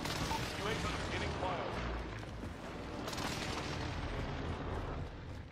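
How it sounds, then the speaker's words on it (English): Heavy airstrike explosions rumble and boom in an Apex Legends ranked match, a dense, continuous barrage of game blasts that carries on under people talking. "Send the airstrike here."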